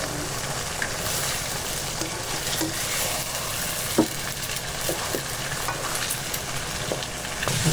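Eggs and naem, a Thai fermented pork, stir-fried together in a wok give a steady, close sizzle of hot oil, with light scraping and tossing spread through the whole stretch and no voices.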